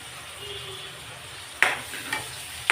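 Tomatoes and onions frying in a pan, a steady soft sizzle with a few sharp spatula scrapes and clinks near the end.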